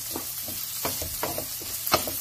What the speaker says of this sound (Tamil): எண்ணெயோட கொஞ்சம் பிரில் எடுத்துக்கும் உருளைக்கிழங்கு.